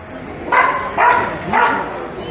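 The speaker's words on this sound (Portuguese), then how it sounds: "esse aqui é o Dragon, nosso cão mais antigo, ele está com a gente há 9 anos" The oldest dog of the Cabreúva Civil Guard canine unit gives three loud, evenly spaced barks up close at a railway station.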